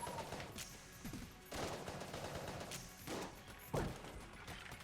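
Ruby Carbine shots ring out in Enter the Gungeon amid a busy soundscape of repeated bursts of fire and crashes, mostly faint with a sharper crack near the end.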